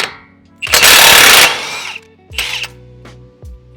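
Power tool loosening the 35 mm axle nut on a Toyota Tacoma, a loud, close rattling burst of impact hammering lasting almost a second, followed by a shorter second burst and a few low thuds.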